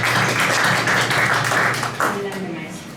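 Audience applause greeting a speaker at a forum on the national anti-corruption system, a loud, dense burst of clapping that fades after a couple of seconds as a voice begins.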